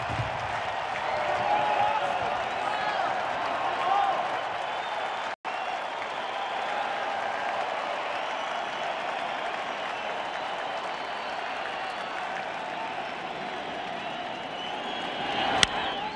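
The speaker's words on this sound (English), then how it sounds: "Crowd's back." A baseball stadium crowd at a Dodgers–Cubs playoff game applauds in a broad, steady wash of clapping and crowd noise that carries on throughout.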